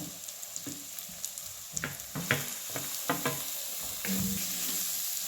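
Roasted cabbage tipped into a hot pan and frying, with steady sizzling and scattered scraping stir clicks from a utensil, close and moderately loud, the sizzle thickening toward the end.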